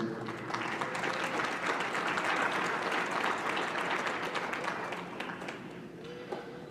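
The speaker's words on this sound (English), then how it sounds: "Can we give these 11 exhibitors a round of applause," Audience applause for eleven exhibitors at a dairy expo showmanship class, a steady sustained round of clapping from a sizeable indoor crowd that fades slightly near the end.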